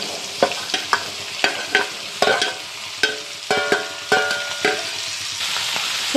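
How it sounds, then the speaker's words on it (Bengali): Onion stalks and half-fried potatoes sizzle in hot oil as a spatula stirs them, about a dozen sharp metallic scrapes and clacks over a steady frying hiss, close up. "এবার আমি পেঁয়াজ কলিগুলো দিয়ে দিচ্ছি।"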